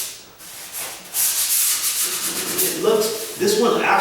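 Sandpaper rubs back and forth across a door being readied for paint, giving close, rhythmic scratchy strokes that keep repeating with short pauses between them.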